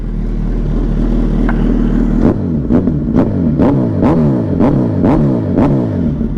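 A 2019 Suzuki Hayabusa motorcycle with a full exhaust, idling loud and close, then revved repeatedly in a series of sharp throttle blips with a deep rumble between them.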